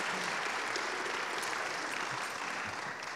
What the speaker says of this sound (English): That's where my wife is supposed to applaud.